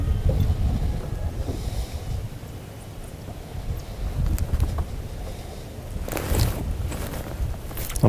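Wind gusts across an open lake out of the northwest during a fishing outing, a steady low rumble of buffeting and microphone wind noise with a stronger surge near the end, alone without talk.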